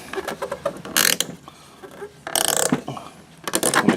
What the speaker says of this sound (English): And then you can unscrew this part from here.